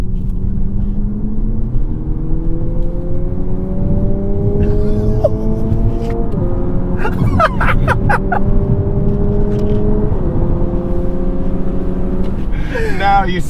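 Simulated engine revving from the active sound control system in a 2022 Lexus UX, loud and close inside the cabin, with rising tones that drop back at each fake gear shift several times over, and people talking and laughing over it.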